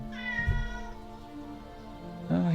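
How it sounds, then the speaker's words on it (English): A pet cat meows loudly and repeatedly at close range, drawn-out harmonic cries at the start and again at the end, with a steady background hum and no talk. "My cat is yelling at me."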